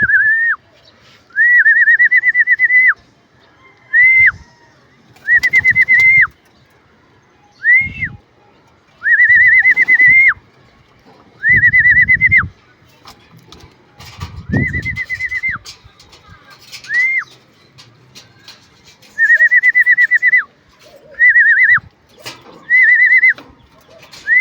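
Pigeons arriving at a loft, with repeated loud whistling calls in short bursts separated by gaps and low cooing and fluttering between them; no talk.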